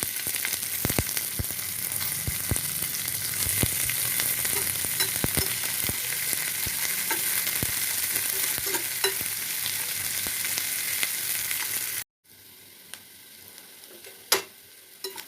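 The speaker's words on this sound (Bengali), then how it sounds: "কেটে রাখা দুটো বড় বড় পেঁয়াজ দিয়ে দেব" Chopped onions frying in hot oil with ginger, dried red chilies and five-spice seeds: a loud, continuous sizzle with scraping stirs runs for about twelve seconds, then drops to a quieter hiss with occasional clicks.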